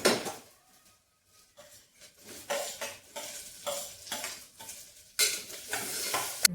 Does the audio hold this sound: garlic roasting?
yes